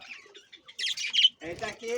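A small colony of budgerigars chirps in quick bright bursts, several birds twittering close together with short gaps between calls.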